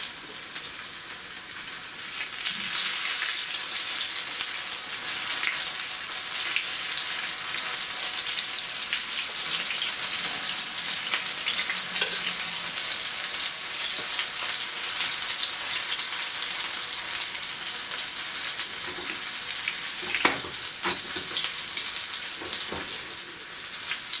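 Onion rings deep frying in vegetable oil in a fry pan, giving a steady, dense crackling sizzle that runs throughout at an even, fairly close level, with a few brief sharper pops near the end.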